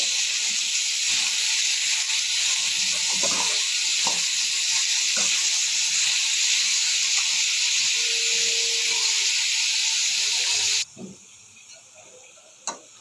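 Pieces of bottle gourd added to a pan of hot oil sizzle with a loud, steady hiss that fills most of the clip. It then drops off sharply near the end, leaving only faint pan noises.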